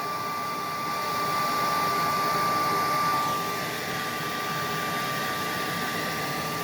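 A loud, steady hot air dryer blows continuously with a broad rushing roar and a thin constant whine. No one speaks.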